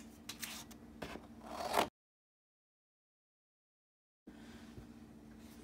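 Scissors snip through paper pieces at a craft table while cutting out parts for watercolor gift cards: a quick run of crisp cuts, then a pause of silence, then quieter cutting and rustling.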